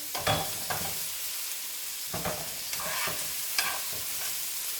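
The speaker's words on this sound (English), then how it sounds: "So I wait till my carrots get a little soft. Just give it a stir. Keep stirring." Carrots sizzle in a pan while a utensil stirs them, making repeated scraping sweeps over a continuous frying hiss, close and steady.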